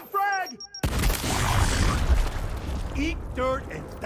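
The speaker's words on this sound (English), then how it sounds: "Outgoing frag!" A frag grenade blast in Gears Tactics erupts as a sudden, loud boom with a long rumbling tail, between stretches of a voice talking before and after.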